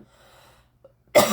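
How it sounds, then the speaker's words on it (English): A single sharp cough at the end, close and loud, after near silence with faint background murmur. "I coughed."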